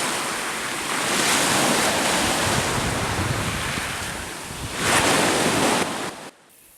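Sea waves surging and breaking along the Sicilian coast, a steady broadband wash with wind buffeting the microphone, swelling louder near the end before cutting off abruptly.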